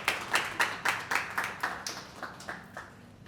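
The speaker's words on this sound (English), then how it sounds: "If we could just give her a round of applause as she walks to the stage." A small audience at a mining and energy media workshop claps as a speaker walks to the stage, with a short burst of hand claps that starts strong and fades steadily over a few seconds.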